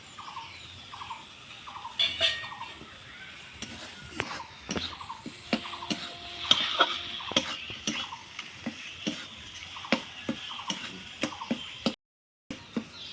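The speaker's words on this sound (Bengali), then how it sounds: "মশলা ভাজা ভাজা হয়ে গেছে, দেখুন।" Spices frying in a pan on low heat for a Bengali rui fish curry, with soft sizzling broken by frequent scraping and clinking of a spatula stirring against the pan, and a brief gap near the end.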